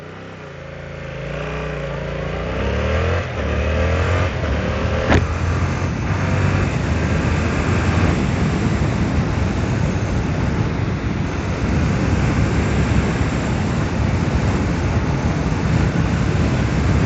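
A 2025 Yamaha R7 sport motorcycle is ridden on the road: its engine note climbs and shifts at first, then heavy, steady wind rush swamps it for the rest of the ride, loud and unbroken, with no talking.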